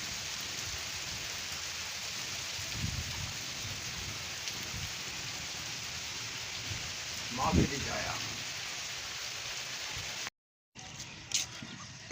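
Heavy rain pouring in a village, a continuous dense hiss of falling water on surfaces, steady and enveloping, with a voice speaking briefly underneath at moments and a short dropout near the end.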